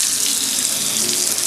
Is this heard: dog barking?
no